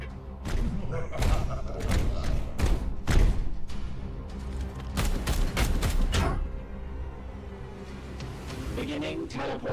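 A grenade launches and detonates in Warhammer 40k: Chaos Gate - Daemonhunters, a rapid series of heavy thuds and booming blasts that come in clustered bursts and then fade into rumbling debris, with someone talking over the noise.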